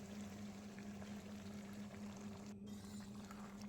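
Water pours steadily into a pot of mutton cooking in mustard oil, a continuous close wash of hiss over a low hum that breaks off for a moment partway through.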